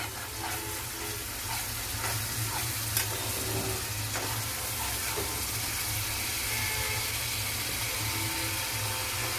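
Ginger and garlic paste fries in oil in a pan as the base for a Bengali prawn malaikari, a steady close sizzle and hiss broken by scraping stirs and a few light clicks, with no talking.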